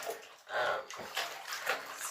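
Hands swish and slosh a finished cross-stitch piece through a basin of soapy water, making close, irregular splashes and gurgles in short bursts. Faint talk sits underneath.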